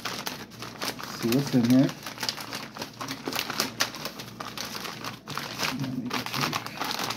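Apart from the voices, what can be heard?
cutting open a package with a knife, crinkling wrapping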